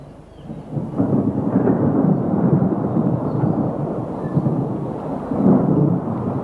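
A low, continuous rumble of thunder rolls on for several seconds, swelling and fading like a storm nearby.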